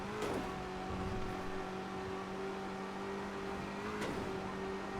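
A fast car with a twin-turbo engine in a roleplay driving video game hums along at steady revs, with a brief rise in pitch near the start and again about four seconds in, moderately loud and alone.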